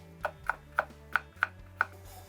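A knife slices through whole garlic cloves on a cutting board, six crisp, evenly spaced chops at close range with no talking.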